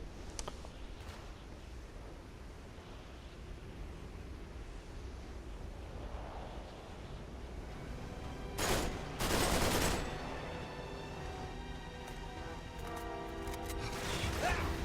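Bursts of gunfire in the video game Uncharted 3 ring out amid a low rumbling ambience, with two sharp loud volleys in the middle and scattered shots toward the end.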